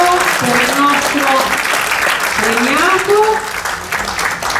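Applause from an audience at a Genoese award ceremony honouring a career achievement, steady and fairly loud throughout, with a voice speaking over it in places.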